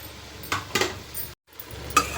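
Drumstick leaves go into a pot of cooked tomatoes with a few soft clinks of a utensil against the metal pot and a faint bubbling sizzle, close and quiet.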